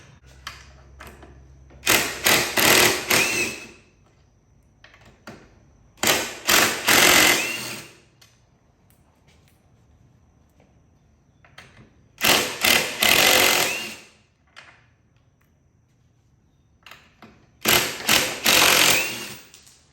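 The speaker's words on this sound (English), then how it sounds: "Then we're going to take an Allen wrench here and loosen up these top bolts right here." A power tool works the handlebar bolts on a 2021 Can-Am Ryker 900, whirring in four loud, close bursts of about a second or two each, separated by quiet pauses, with no talking.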